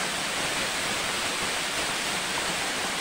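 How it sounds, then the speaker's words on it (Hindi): Village waterfall rushing, a steady, loud broadband roar of falling water that stays constant throughout, close by and with no voices. "बहुत टाइम बाद आई हूँ मैं झरने के पास,"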